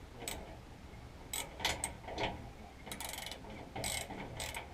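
Ratcheting wrench tightening a bolt with washers on a boat, short bursts of quick metallic clicks in several separate runs, close and fairly quiet.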